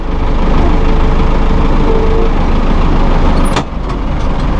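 A 2001 New Holland TL100 utility tractor engine runs loud and steady while the gears are shifted, giving a continuous close drone with a brief clunk near the end.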